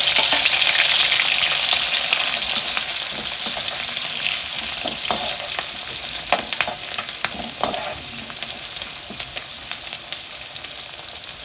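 Onions, cumin and mustard seeds fry in hot oil, giving a steady broadband sizzle with occasional louder crackles and pops. It is close and continuous throughout, with no talking.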